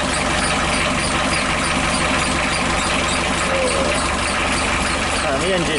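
A narrowboat diesel engine runs heavily and labours under load on low batteries. The rough, steady throb stays loud and close throughout, with a voice speaking over it.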